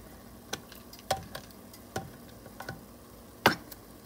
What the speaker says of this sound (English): So I'm using the smooth edge can opener